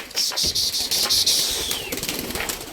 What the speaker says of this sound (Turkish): Kuşları bir kaldırmayı denedim.